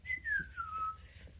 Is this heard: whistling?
yes